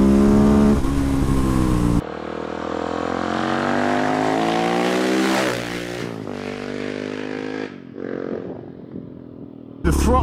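A modified KTM 690 SMC R motorcycle's single-cylinder engine revving loud and close, rising and falling through sharp throttle blips with an aggressive, buzzy tone before cutting back.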